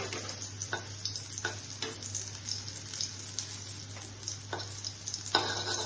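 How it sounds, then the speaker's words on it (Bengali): Paneer pieces fry in hot oil in a pan for a curry, a steady sizzle broken by intermittent scraping stirs of a spatula, close and moderately loud, with no talking. "তেল দিয়ে পনিরগুলিকে দিয়ে দিচ্ছি।"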